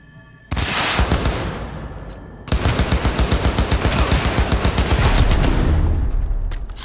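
Gunfire in Cyberpunk 2077 plays out as two loud bursts of rapid automatic shots, a short volley then a longer steady rattle after a brief gap, close and alone.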